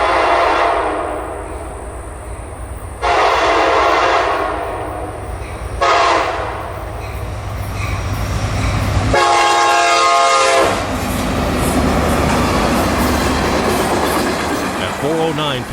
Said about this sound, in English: the Tropicana juice train with an EMD leader and making maximum authorized speed